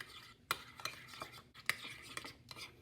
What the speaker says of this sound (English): I'm gonna mix this all together.